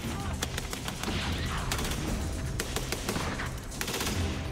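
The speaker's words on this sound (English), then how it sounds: "His Browning light machine gun fires from a 250-round belt fed from the side." A Browning light machine gun fed from a 250-round side belt hammers away in a Pacific War battle, trading fire with an enemy nest about 50 yards off. Dense, loud, continuous bursts run throughout with overlapping shots and no clear pauses.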